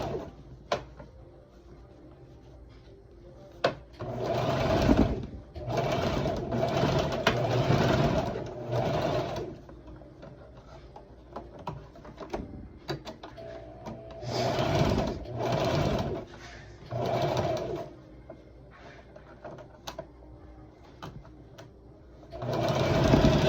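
A sewing machine stitches a toddler's Dickies dress in several steady whirring runs of a few seconds each, separated by pauses, close up and without talk.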